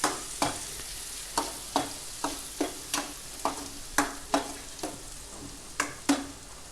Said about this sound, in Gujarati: ડુંગળી ઝીણી સમારેલી નાખશું।